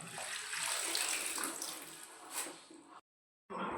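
Fenugreek (methi) leaves are washed in water, giving a steady close splashing and running-water wash that continues for about three seconds, breaks off into brief silence, then resumes.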